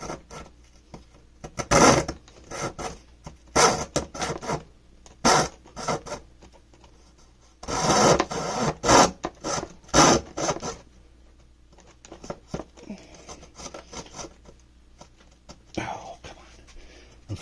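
Hand saw rasping through wood while cutting a mandocello part, heard as bursts of scratchy strokes with pauses, the teeth catching and dragging in the cut at close range.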